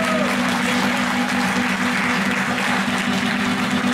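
Sustained applause from an outdoor crowd at a Strasbourg commemoration of Chadian soldiers' role in the city's liberation, steady and dense throughout, with a low hum running beneath it.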